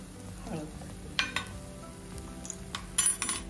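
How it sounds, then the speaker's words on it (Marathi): Spiced masala for a brinjal curry frying in oil in a pan: a soft sizzle underneath, with a few metal spoon clinks and scrapes against the pan during stirring. "असं छान तेल सुटेपर्यंत मसाला परतलाय।"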